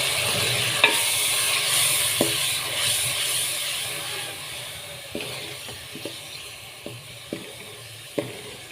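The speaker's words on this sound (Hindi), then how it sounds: "अब मैं इसमें पानी शामिल कर दूँगा।" Fried spices for chicken korma hiss and sizzle steadily in a pan as water goes in, with occasional sharp clinks of a spoon stirring against the pot.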